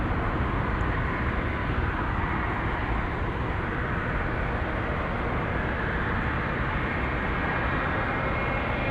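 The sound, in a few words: airplane from Seoul, South Korea, landing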